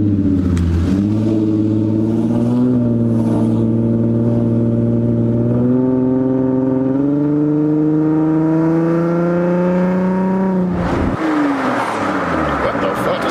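An Infiniti G35 engine revs during a rev match, the pitch climbing smoothly and steadily for about ten seconds, then dropping sharply as the revs fall. The engine is close, loud and dominant throughout.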